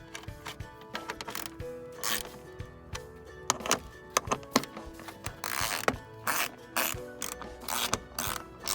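Bolts being reinstalled on the grille of a Mercedes CL W216, heard as close, rapid ratchet clicks in repeated bursts with brief pauses and clinks of metal, no talking.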